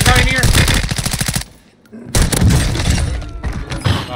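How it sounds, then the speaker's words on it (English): Rapid, loud video-game shotgun and gunfire blasts hammer in a dense burst, drop out for a half-second lull, then resume in heavy bursts with shattering crashes layered in. "It was a shotgun."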